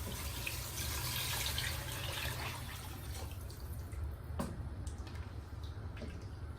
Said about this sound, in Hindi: और अब पानी ऐड कर देंगे।